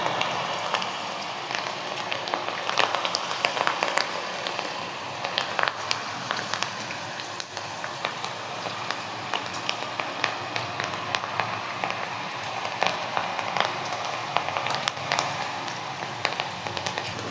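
Chana dal fries crisp in hot oil, giving a dense, continuous crackle and sizzle of popping bubbles, steady and close throughout with no talking.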